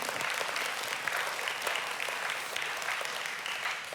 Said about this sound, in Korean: 우리 함께 환영의 박수 한번 해주십시오